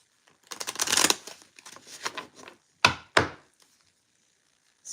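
A tarot deck is shuffled by hand in a quick riffling flurry for about a second, then softer rustles follow, ending with two sharp, close taps as the cards are squared.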